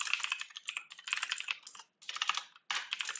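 Rapid typing on a computer keyboard during a live coding session, close, crisp key clicks in bursts with brief pauses between them.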